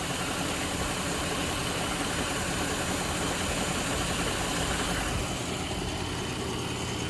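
A 2014 Dodge Durango 3.6L V6 4x4 with a suspected misfire idles steadily, a constant close engine drone with no voices.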